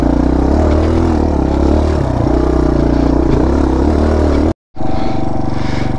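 Suzuki DRZ motorcycle engine held in first gear on bumpy mountain terrain, a loud, steady close-up drone with rising and falling pitch, briefly dropping out before returning, no voices.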